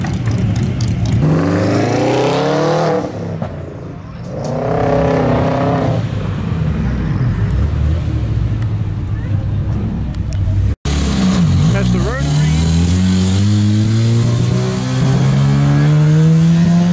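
A V8 car leaving a Saturday night car show revs and accelerates nearby with a deep, rising roar, and engine pitch sweeps as it pulls away. People talk over the noise throughout.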